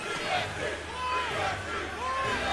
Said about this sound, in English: Can I get some noise from the crowd?